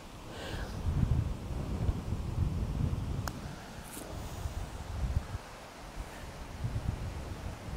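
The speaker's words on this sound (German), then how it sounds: "Es ist jetzt so windig, ich muss mir schon die Mütze festhalten hier." Gusty wind on a golf course at Golf Club Einbeck, buffeting the microphone in rough, surging rumbles that rise and fall, with a brief rustle and no speech.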